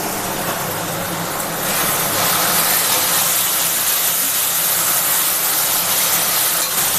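Spice paste with Kashmiri chilli frying in a pan for a prawn and taro curry, giving a steady, loud broadband sizzle that swells after the first couple of seconds and holds unbroken, with no talking.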